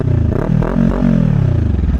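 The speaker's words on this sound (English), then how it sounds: "It does have an M4 exhaust," A Kawasaki Ninja 400 motorcycle with an M4 aftermarket exhaust idles and is briefly blipped nearby, giving a deep, loud, throbbing rumble that rises and falls twice over a steady low drone.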